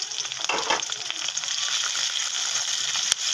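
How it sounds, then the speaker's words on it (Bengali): Curry leaves, chopped onion and green chilli sizzle steadily in hot oil for lemon rice, a continuous crackling fry with faint stirring scrapes and a sharp click near the end. "হালকা ভেজে নেব।"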